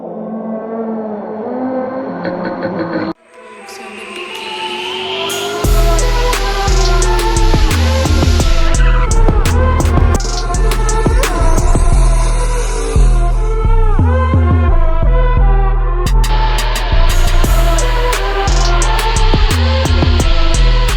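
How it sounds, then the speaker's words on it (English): Single-turbo Silverado truck with a 4.8 engine, cam kit, stock heads and upgraded fuel system, revving hard on a dyno; loud sustained engine roar with rising and falling pulls after a brief quiet start. "Today we have another dyno session with a customer's truck"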